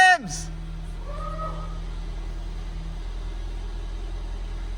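A 1990 Toyota MR2 engine fires and settles into a steady idle right after a brief loud burst at the start, a low continuous hum that runs alone to the end.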